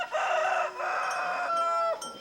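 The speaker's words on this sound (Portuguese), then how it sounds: "O galo lembra que ainda é madrugada, mas já está na hora de levantar." A rooster crows at dawn in a rural backcountry setting, two loud, close, drawn-out calls with a brief break between them, with no other sounds around.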